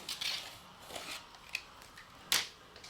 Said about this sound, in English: It is a brand new blade in this knife, so it is really sharp, and it's going to come across, and hopefully we'll have a nice straight cut.